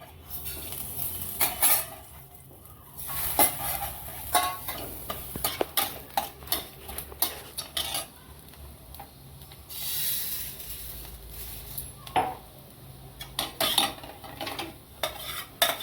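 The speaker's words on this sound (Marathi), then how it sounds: "आपण तांदूळ भाजून घेऊ" Rice roasting in a pan, stirred with a metal utensil: repeated scraping clinks and clatters against the pan over a soft sizzle, close and fairly loud, with no talking.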